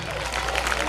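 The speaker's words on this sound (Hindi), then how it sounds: "इसके लिए तालियां बजानी पड़ेगी" A school audience at an annual function claps in a brief burst of dense, continuous crowd applause.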